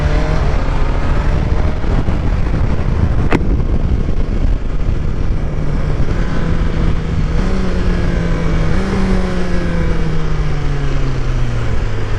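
A 2020 BMW S1000XR motorcycle engine roars steadily up close through its exhaust, revs rising and dropping through several quick-shifter gear changes, with a sharp crack at one shift.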